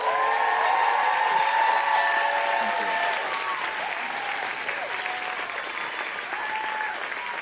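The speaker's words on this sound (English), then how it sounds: "can we please give them and their models a huge round of applause?" Audience at a high school fashion show applauds the student designers and their models, a loud, sustained wash of clapping that holds steady for several seconds before easing slightly.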